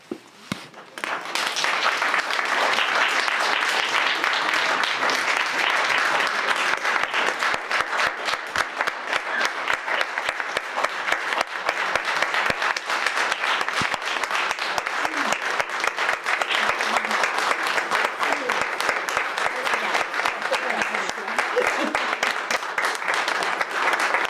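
Sustained, dense applause fills a York city council meeting chamber after a vote, with many hands clapping close and steady for over twenty seconds, beginning after a brief pause.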